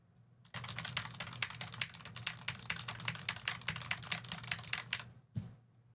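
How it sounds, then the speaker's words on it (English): Computer keyboard typing captured through a Shure SM7B dynamic microphone: a steady run of close, crisp key clicks for about five seconds, starting and stopping abruptly, with no talking. "Okay, now I'm going to try the keyboard."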